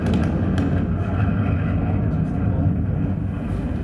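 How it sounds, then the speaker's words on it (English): Infrasonic jet noise from an erupting volcano, a jet-engine-like roar, plays as a steady, dense, low rumble with broad noise throughout and no gaps, loud and continuous from start to finish. "It's actually similar to a jet engine noise, and we call it infrasonic jet noise."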